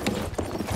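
An enemy horse gallops in Battlefield 1, its hooves making a quick, uneven clip-clop over a busy game backdrop with no clear speech.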